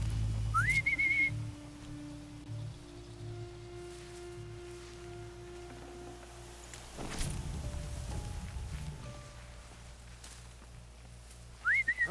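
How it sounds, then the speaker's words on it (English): A rising whistle leads into a short sustained tone near the start and returns briefly at the end, sounding in a robot-themed shooter game over low ambient hum, soft tonal drones and a burst of rustling movement midway. "It was me whistling at you."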